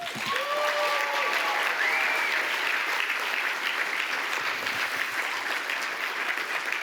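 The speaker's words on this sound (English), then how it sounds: "let's take a moment to applaud all of them." A film festival opening-night audience claps steadily and evenly, a dense sustained applause with a few whistle-like tones near the start.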